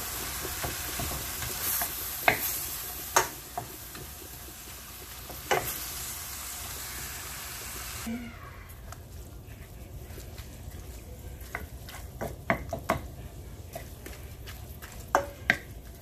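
Ground beef seasoned with salt and pepper frying in a pan, with steady sizzling and occasional stirring clinks and scrapes; the frying grows quieter partway through.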